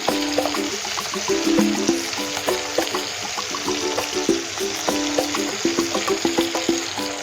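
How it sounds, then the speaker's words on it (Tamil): Dried fish (karuvadu) frying slowly in a pan, a soft continuous sizzle and bubbling with repeated light scraping and clinking as it is turned, fairly quiet throughout. "ஒடியாத மாதிரி நம்ம மெதுவாக ஃப்ரை பண்ணி"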